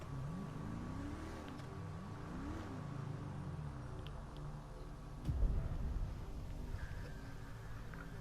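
A car engine in the video game GTA 5 whirs and revs in repeated rising and falling sweeps, fairly quiet, with a short thump of louder noise partway through.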